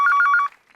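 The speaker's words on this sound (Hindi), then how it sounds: "हमारे रिंगटोन है मोबाइल का" A mobile phone ringtone gives a short, loud burst of rapid electronic trilling pulses, close by and alone, then cuts off abruptly.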